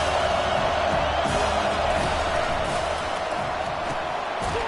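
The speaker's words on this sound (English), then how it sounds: "Listen to this crowd just shaking the girders of this place, trying to help their defense." A packed college football stadium crowd at Rutgers versus Penn State roaring to rally the defense, a dense, loud, sustained wall of cheering and shouting that fills the space without letup.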